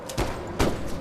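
Two sharp gunshot bursts from a Bigfoot-hunting video game, loud and close, spaced about half a second apart with a fainter pop at the end.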